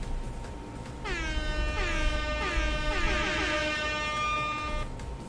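A loud blaring air horn sounds in a rapid series of rising blasts, repeating for several seconds before cutting off.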